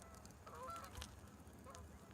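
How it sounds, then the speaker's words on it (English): Geese honk outdoors near a tiny house, a few faint, distant nasal calls scattered over steady low background rumble. "Oh, look at the geese. Is that geese?"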